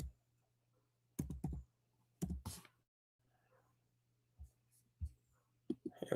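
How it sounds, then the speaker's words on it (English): Typing on a computer keyboard comes in short clustered bursts of close key taps separated by quiet gaps, with a faint steady hum underneath. "my big sausage fingers are typing everything wrong"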